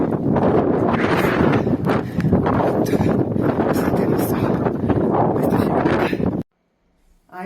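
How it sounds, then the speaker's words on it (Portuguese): Strong wind gusts roar across the microphone in the mountains during a marathon run, a loud continuous buffeting that stops abruptly near the end, leaving brief quiet. "Escuta a ventania desse vídeo"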